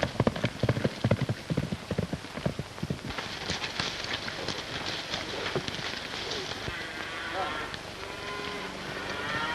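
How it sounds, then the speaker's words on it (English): Rapid hoofbeats of horses galloping in a 1932 Western film, dense and loud at first, then settling into a steady clatter with some background noise. "Get on your horses, let's go."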